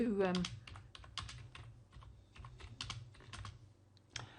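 Rapid keystrokes on a computer keyboard as a Google search is typed, a quick irregular run of clicks that stays fairly close and steady, with a brief voice at the very start.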